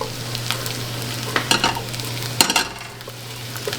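A spoon scrapes around a pot of dark roux for seafood gumbo cooked with andouille sausage, close and steady, with a faint sizzle underneath and a few sharper scrapes and clinks, no talking.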